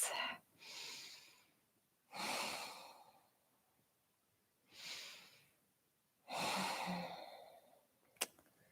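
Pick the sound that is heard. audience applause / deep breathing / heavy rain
deep breathing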